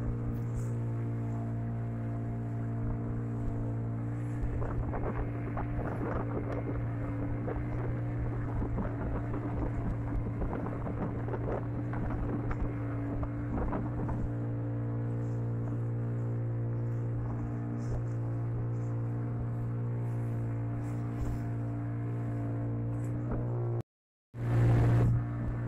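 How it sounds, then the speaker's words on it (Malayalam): A boat rides through the sea off Payyambalam beach in Kannur, its engine a loud, steady drone with a constant hum throughout. Brief water and wind noise rides over it before a short cut near the end. "അങ്ങനെ നമ്മൾ ബോട്ട് ഇനി കരയിലേക്ക് പോവുകയാണ്."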